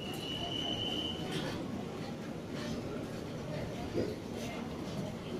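A Soekarno-Hatta airport train arrives on platform 9 at Manggarai station, Jakarta, rumbling through the busy station with steady broadband noise and a brief high whine, people talking faintly in the background.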